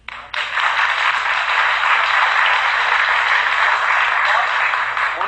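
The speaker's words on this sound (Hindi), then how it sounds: "उनके प्रश्न पर आप ताली क्यों बजा रहे हो?" An audience applauds at a televised courtroom-style interview show, dense clapping that starts abruptly and continues steadily for several seconds.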